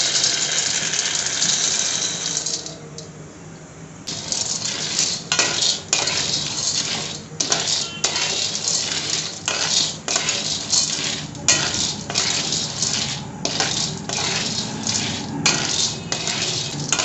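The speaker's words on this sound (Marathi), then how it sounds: "कढई तापलेली आहे आणि शेंगदाणे आपण सुरुवातीला बाजून घेणार आहोत" Peanuts roast in a hot kadhai as they are stirred, giving a steady dry rattle with repeated sharp scraping clicks from the spoon against the metal pan. The sound is loud and close throughout.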